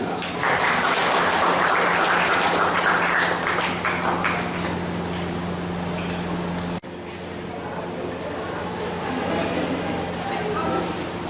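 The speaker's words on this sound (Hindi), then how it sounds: "जोरदार तालियों से स्वागत कीजिए" Loud, sustained applause from a crowd at a college career guidance and campus drive event fills the room continuously, with a brief dip partway through before the clapping carries on.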